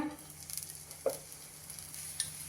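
Sorghum thalipeeth with coriander leaves, drizzled with a little oil, roasts in a covered pan with a soft, close, steady sizzle broken by a few small pops.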